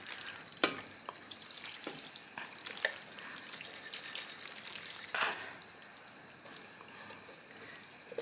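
Mac and cheese mixture is poured into a pot, giving faint wet sizzling and stirring sounds with a few sharp clinks and soft gloopy splashes, quiet and close.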